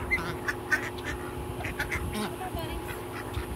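Ducks quack at a park pond in short scattered calls at moderate distance, under a steady outdoor background with some talk nearby.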